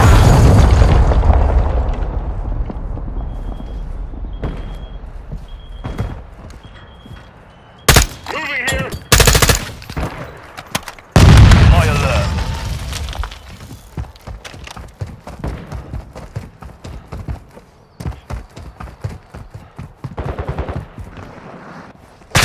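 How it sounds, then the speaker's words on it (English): Cruise missile blasts and gunfire in Modern Warfare II Search & Destroy: a rumbling opening, then a cluster of loud booming impacts, followed by dense, rapid bursts of close gunshots that thin out into scattered pops. "Friendly cruise missile deployed."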